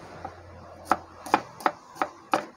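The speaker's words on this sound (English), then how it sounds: "we're gonna chop off the onion" Knife chopping onion on a cutting board in a Thai cooking class, five or six crisp separate chops in an uneven rhythm, close and clear with no voices.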